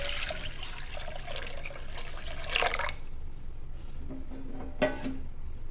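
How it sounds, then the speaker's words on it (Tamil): Water is poured into a pressure cooker on a stove, a steady splashing pour that stops midway, followed by faint clinks and light drips nearby. "இப்போ அடுப்பில் குக்கர் வச்சுக்கிட்டு"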